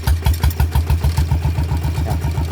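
A walking tractor's engine chugs loud and close, its rapid regular thumping pulses quickening slightly as it revs up.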